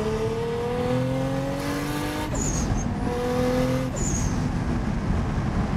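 A tuned 700 hp Titan Motorsports Toyota Supra engine drones steadily, then drops in pitch twice through downshifts. Each drop comes with a brief high whistle from the engine bay. The engine is loud and close throughout.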